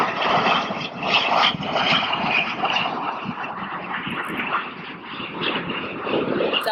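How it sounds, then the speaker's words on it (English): A low-flying passenger airplane passes overhead at a cemetery. Its engine roar is loud and steady and fills the whole stretch without break. "This plane is so low."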